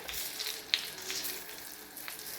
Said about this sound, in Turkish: Peynirler arkalı önlü nar gibi kızarınca alabiliriz artık.